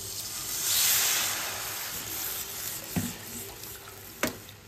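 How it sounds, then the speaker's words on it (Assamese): Water poured into a pan of thick, fried gravy sets off a loud hissing sizzle that swells in the first second, then slowly eases to a steady simmer with a couple of sharp clinks near the end. "ভাজি লৈ এতিয়া পানী এড কৰি দিম"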